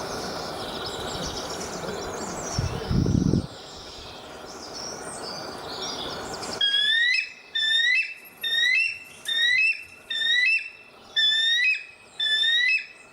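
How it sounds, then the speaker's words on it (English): Eagle call played through computer speakers: after a muffled stretch of room noise and a brief low thud, six shrill, rising piercing cries repeat at steady intervals, fairly loud and unaccompanied. "That is an eagle, you guys."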